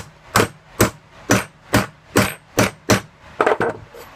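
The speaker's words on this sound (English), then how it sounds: "put your socket over it, and you hammer it home" Seven evenly spaced sharp hammer blows ring out on a socket driving a metal coupler home, followed by a quick cluster of lighter taps, close and clear.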